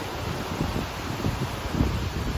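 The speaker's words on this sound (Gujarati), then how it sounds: "ને પુષ્કળ વરસાદ આવે છે. ચાલુ જ થયો છે પણ સારો આવે છે, પવન અને વરસાદ" Constant hiss of heavy monsoon rain in Surat mixed with gusting wind, with occasional louder rushes and no talking.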